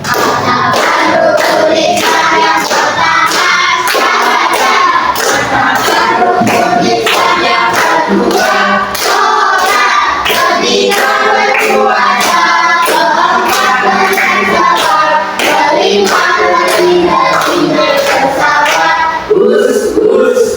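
A school class performs the tepuk rukun Islam clapping chant, voices chanting together with loud rhythmic group hand claps in a steady beat, sustained and close.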